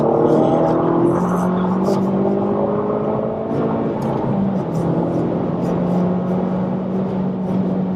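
A tuned Honda Civic Type R accelerating hard, its engine note a steady sustained drone that holds and rises slowly through the run, close and loud with no talk over it.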